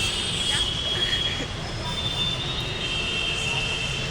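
A metro train rumbles at a station with a steady rolling roar and a faint high squeal of wheels on rail, the platform noise continuous and moderately close.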